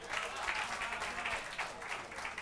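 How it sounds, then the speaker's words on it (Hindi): Audience applause welcoming a poet at an Urdu poetry gathering, continuous clapping from a sizeable crowd, fairly faint and distant throughout. "ज़ोरदार तालियों से इनका इस्तकबाल कीजिए।"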